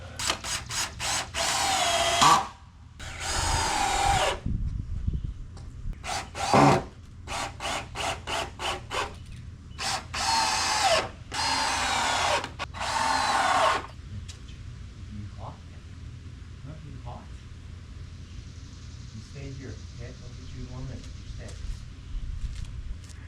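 Screws are driven into 2x6 wood for a homemade truck hoist: repeated bursts of a power driver whirring, each a few seconds long with short pauses between, close and loud, then giving way to quieter handling noise.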